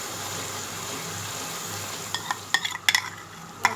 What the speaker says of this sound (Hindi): अब इन तमाम स्पाइस को हम अच्छी तरह भूनेंगे।